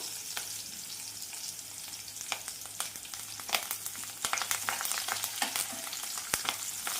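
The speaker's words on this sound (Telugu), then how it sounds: "ఇప్పుడు దీంట్లోకి కొంచెం కరివేపాకు వేసుకుందాం" Curry leaves fry in hot oil in a pan for a leftover chicken curry dish. Faint steady crackling is dotted with sharp pops that grow busier over the seconds, and no one speaks.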